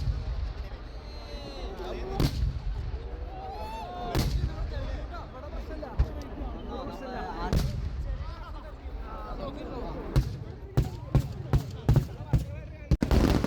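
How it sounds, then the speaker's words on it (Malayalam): Fireworks burst at the Kavassery Pooram festival in Kerala, a series of sharp, loud booms with crackling sputters between them. The bangs grow quicker and more clustered toward the end, and people talk underneath. "വെടിക്കെട്ടൊക്കെ പൊട്ടുന്നുണ്ട്"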